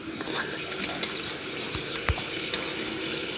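Ashak dumplings boiling in a pot give a steady, close hiss of bubbling water with a few soft knocks.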